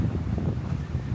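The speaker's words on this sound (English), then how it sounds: "it's bloody windy" Strong gusting coastal wind on the Kiama coastal track buffeting the microphone, a heavy low rumble with no voices.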